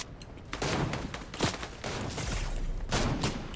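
Gunfire in the game Fortnite: repeated sharp shots in a steady barrage, some spaced and some in quick runs, loud and close over constant game noise.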